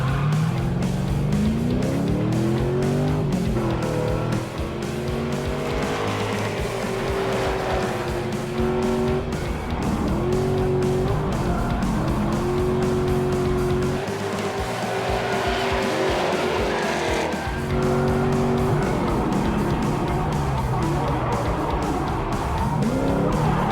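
A drift car makes a lead run at Power Nationals 2022 with another car following. Its engine revs rise and fall continuously as the tires squeal in long, loud bursts. The sound comes from close by, inside the car.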